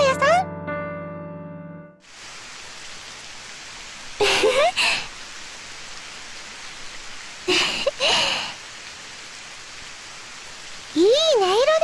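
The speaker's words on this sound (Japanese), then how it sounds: "こうしてただ静かに雨音に耳を澄ませるのもいいものね。" Steady rain falling in a game story scene, an even hiss of rainfall running throughout beneath brief chimes and short bursts of character voices.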